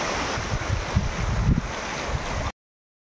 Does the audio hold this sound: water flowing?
yes